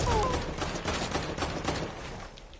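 Dense, rapid gunfire in a battle royale video game, several overlapping bursts of crackling shots at a steady loud level for a few seconds, with no voice over it.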